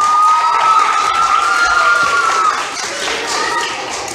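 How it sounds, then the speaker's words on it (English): A school assembly audience in Merced, California applauds and cheers for a Ukrainian Cossack-style dancer, a dense, steady wash of clapping and shouting voices that fills the room and eases slightly toward the end. "please give a big round of applause to our dancer Serhiy"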